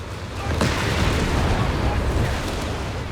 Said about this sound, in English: Just so much firepower when they all pop off their cannons at once